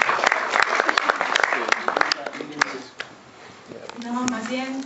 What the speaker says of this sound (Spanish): Yo quiero pedirles, por favor, un fuerte aplauso